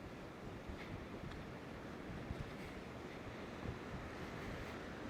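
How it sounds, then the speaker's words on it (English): Water runs in an Arizona river below, flowing high after rains. A faint, distant, continuous rushing hiss stays steady throughout, with no voices. "I can hear water running down there."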